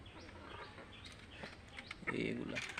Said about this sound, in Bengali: কুচে বসার জন্য আমি দেশি মুরগি নিছি, ছোট এখনো।